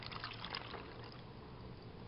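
Water poured into a storage container for a homemade body spray, a steady trickling and splashing stream that runs close and fairly quiet for the whole stretch, with no talking.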